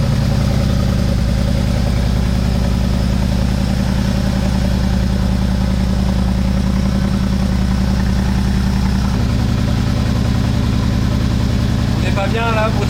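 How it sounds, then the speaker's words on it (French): Aston Martin V8 engine after a cold start, warming up at a steady, loud, deep idle with rich low rumble throughout, a slight shift in tone partway, with a person talking over it. "il n'y a plus qu'à faire chauffer le V8"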